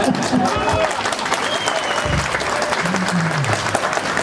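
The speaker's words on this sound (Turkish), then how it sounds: "Alkış alkış." An outdoor crowd at a political street gathering in humid weather applauds steadily and loudly, with a voice speaking briefly through the clapping.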